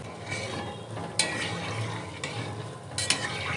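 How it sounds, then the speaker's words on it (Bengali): Pantua sweets frying gently in oil over low heat with continuous stirring, giving a steady close-up sizzle broken by a few brief scraping stirs of the utensil against the pan. "এরকম হালকা আঁচে এগুলো ভাজতে হবে।"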